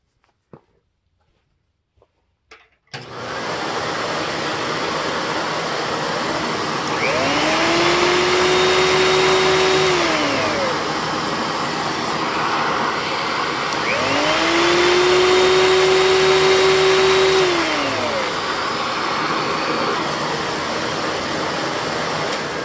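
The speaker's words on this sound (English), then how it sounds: "I have it rigged up through my Electrolux canister. So one final test run." A Panasonic Jet-Flow canister vacuum switches on after a few quiet seconds and runs on a test in a loud, steady, close whine, its tone twice swelling and rising before settling back.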